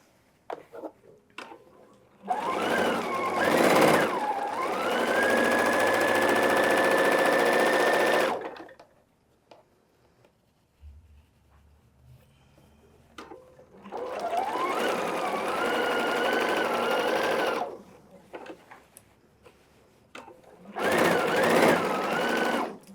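Domestic sewing machine stitching front and back pockets together at a 1.5 cm seam allowance, running in two long loud bursts with a short final burst and quiet pauses between, no talking.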